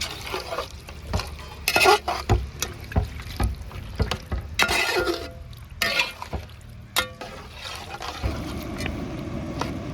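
A spoon works through chicken stew with coconut milk and salt in a pot, giving repeated scraping and sloshing strokes with small clinks, close and moderately loud, with no talking.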